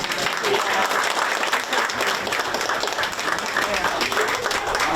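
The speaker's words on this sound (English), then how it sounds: "One more round of applause." Steady, dense applause from a crowd at a time capsule kickoff and burial event in East Longmeadow, clapping continuously and evenly at full volume throughout.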